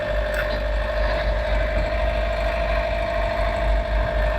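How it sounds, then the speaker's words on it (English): A boat's engine runs at a steady idle, a constant low rumble with a faint mechanical hum, close and continuous with no talk over it. "let's fire the engine up"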